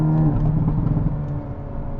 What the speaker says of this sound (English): Because that exhaust is amazing.